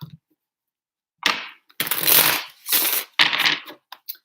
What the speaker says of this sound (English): 3 shuffles for Pisces and their person.